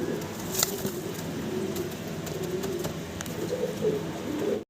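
German Shield pigeons coo in a low, throaty, repeated rhythm, close and clear over a steady background hum, with a brief sharper sound early on.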